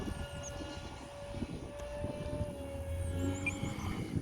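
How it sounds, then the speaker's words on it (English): An AeroScout radio-controlled model airplane flying in high winds at an R/C club field, its faint steady engine drone carried under loud, gusting wind noise throughout. "Great little plane, man."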